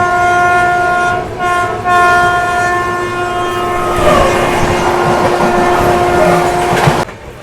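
A passenger train rolls past at a railway crossing, its horn sounding in long, loud, steady blasts over a rumbling, clattering run of wheels. The horn cuts off abruptly near the end.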